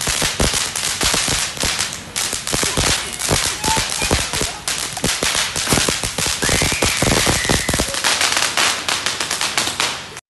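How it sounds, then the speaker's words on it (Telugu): Firecrackers crackle and pop in rapid, dense bursts during Diwali celebrations at a family home, sharp cracks overlapping one another at close range with little pause, loud and chaotic throughout. "కుటుంబ సమేతంగా చిన్నారులతో కలిసి టపాసులు కాలుస్తూ వేడుకలను సంబరాలుగా నిర్వహించుకున్నారు."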